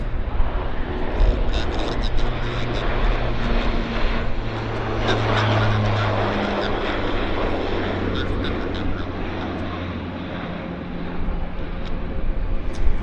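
Q400 turboprop aircraft drone at Vancouver Airport, a steady low propeller hum with a faint whine held across the whole span, fairly close, with a voice speaking over it.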